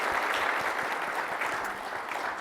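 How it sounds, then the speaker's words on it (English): Audience applause at a live talk, a brief steady wash of clapping from a room of people, moderately loud and continuous. "give them a round of applause"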